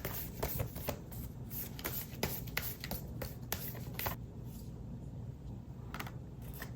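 Tarot cards shuffled by hand at close range, a steady run of crisp riffling slaps and flicks, then a quieter stretch of card handling as cards are drawn, with no talking.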